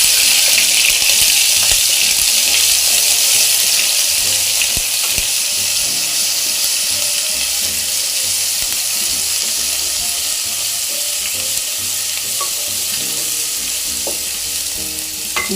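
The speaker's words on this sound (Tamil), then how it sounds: "சோம்பு பொரிஞ்சதுக்கப்புறம் கொஞ்சம் இஞ்சி பூண்டு பேஸ்ட் போடுறோம்." Ginger garlic paste and fennel seeds frying in hot oil for a capsicum soya gravy, a loud, dense, continuous hiss of sizzling with stirring throughout and no voices.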